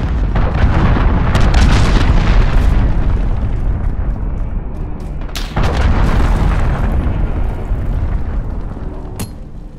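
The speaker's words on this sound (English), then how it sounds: "Missile incoming, take cover." A missile explosion in the video game Call of Duty Modern Warfare: a heavy, loud boom that rumbles on with debris and crackle for several seconds, then a second blast strikes midway.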